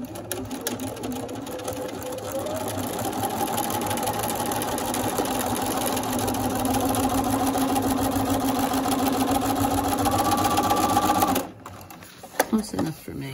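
A sewing machine stitches binding onto a table runner, a steady close, fast mechanical whirr that speeds up slightly and runs continuously before stopping abruptly, followed by a few clicks and handling taps.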